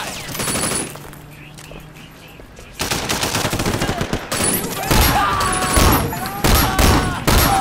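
Rapid automatic gunfire in the Sleeping Dogs video game, starting with a loud burst, then a quieter pause, then continuous dense volleys that grow louder toward the end, with a voice speaking over the shooting.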